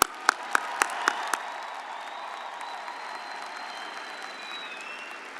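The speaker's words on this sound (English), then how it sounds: "How about one big round of applause again for our graduates?" A few sharp claps at the start from an audience at a West Virginia University December commencement ceremony, quickly fading into a low, steady crowd murmur with a faint tonal whistle running underneath.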